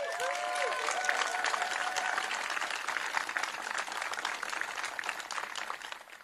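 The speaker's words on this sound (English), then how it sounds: "Let's give him a round of applause." A crowd applauds at an outdoor Washington State Pride flag raising, dense steady clapping that fills the whole stretch at moderate distance, with faint voices in it early on.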